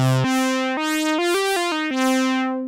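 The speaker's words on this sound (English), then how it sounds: "we've modulated both the amplifier and the filter with this envelope generator." A buzzy analog synth tone from a Korg MS-20, with one envelope shaping both filter and amplifier, plays a short run of stepped notes, each swelling in softly and fading smoothly, heard clearly on its own.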